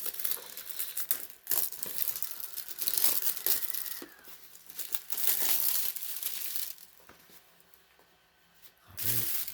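Plastic packaging around a Vigilante Z-700 smoke alarm being opened by hand, with close crinkling and crackling in irregular bursts, some brief tearing, and short pauses between handlings.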